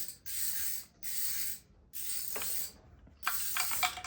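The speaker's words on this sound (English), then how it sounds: "you're gonna have to keep flipping the wrench around because you can only do little short moves at a time until you kind of get it free" A wrench works a small 7/16 nut loose on a 1975 Johnson 9.9 hp outboard motor, making several short bursts of ratcheting clicks with brief pauses between moves, close and fairly quiet.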